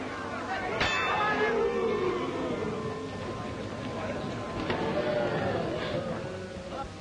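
A boxing ring bell clangs once, sharp and near, over a noisy 1942 fight crowd, with a second fainter clang later amid the steady hubbub of spectators.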